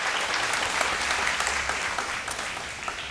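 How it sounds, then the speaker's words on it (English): Steady, enthusiastic applause from a large audience at a vocal competition show, dense clapping that holds at an even level throughout. "Round of applause, please, for our production partners."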